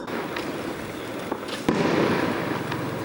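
Continuous crackling bursts of fireworks pop and bang outdoors, with a sharper loud explosion midway amid dense, rapid crackling.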